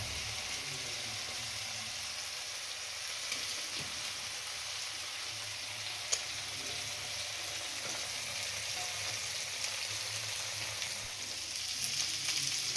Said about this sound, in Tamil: இப்போ ஃப்ரை பண்ண காலிஃப்ளவரை போட்டுக்கலாம்.